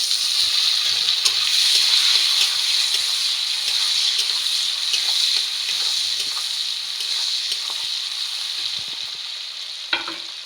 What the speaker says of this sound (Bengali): পেঁয়াজগুলো একটু ভাজা হয়ে গেছে, এবার আমি টমেটোগুলো দিয়ে দেবো।